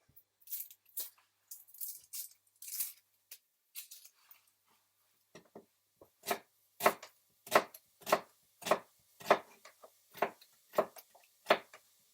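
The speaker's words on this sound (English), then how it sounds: "So I'm just chopping, top and tailing and halving it, and then chopping it down into about centimetre size." Onions being chopped with a knife on a board, topped, tailed, halved and diced into roughly centimetre pieces: sparse irregular cuts at first, then a steady run of sharp, close, evenly spaced chops.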